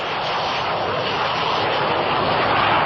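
A Saab Gripen fighter's single General Electric turbofan engine with afterburner gives a loud, steady, broadband jet roar that holds unbroken throughout, heard alone without voices.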